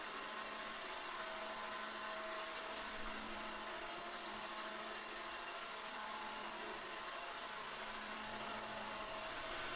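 An Ecovacs Deepoo D56 robot vacuum cleaner runs in spiral mode indoors, giving off a steady, even motor whir and airy suction hiss at low level, with no break or change in pitch.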